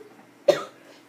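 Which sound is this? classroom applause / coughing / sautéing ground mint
coughing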